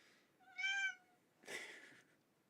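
A house cat gives two clear, close meows about a second apart, a tonal cry and then a rougher, breathier one, in an otherwise quiet room.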